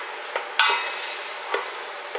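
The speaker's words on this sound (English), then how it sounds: "we're going to saute our beef" Beef, about 400 grams, sautés in a hot pan with a constant sizzle while a utensil scrapes and stirs it several times, with sharper clinks near the start; nobody speaks.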